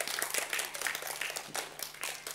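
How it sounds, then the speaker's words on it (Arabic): An audience applauds a girl at a children's theatre show, with steady, dense clapping that stays loud throughout the short burst. "تصفيق عليها تصفيق عليها، حيوها"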